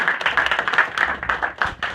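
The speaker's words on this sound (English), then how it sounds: "Clap it up." A classroom of students clapping, with quick, uneven bursts of hand claps close by, loud and energetic for two seconds, with a low rhythmic thump underneath.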